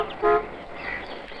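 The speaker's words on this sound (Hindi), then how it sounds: "वो आवाज सुनी? किसी मोटर के हॉर्न की आवाज है।" A motor car horn gives one short, moderately faint toot, followed by a quieter trailing tone over soft background noise in an old film scene.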